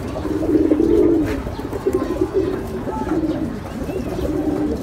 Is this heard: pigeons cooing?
yes